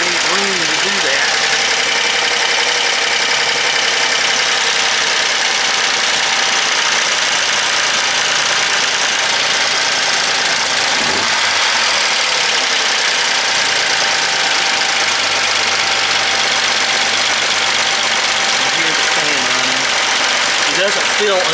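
A vintage Jaguar car engine idles steadily at close range, a continuous even hum with a faint knocking texture, alone throughout.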